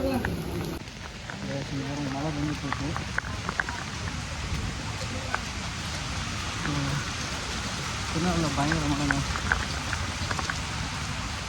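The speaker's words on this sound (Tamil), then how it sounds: "பார்த்தீங்களா வெள்ளம் எந்தளவுக்கு ஓடுதுங்க" Floodwater after heavy rain in Nellai rushes and splashes continuously in a broad roaring wash, with people talking intermittently over it.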